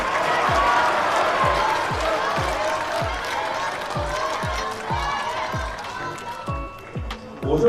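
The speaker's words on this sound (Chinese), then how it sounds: "请我们的观众朋友送一些掌声给到他们" Audience at an esports event applauding, a continuous wash of clapping and crowd noise with rhythmic low thumps underneath, fairly loud and close.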